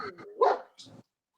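A dog gives a couple of short, sharp barks indoors, close and fairly loud, then falls quiet.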